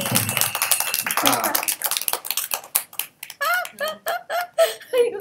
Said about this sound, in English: That's the first time I've got applause.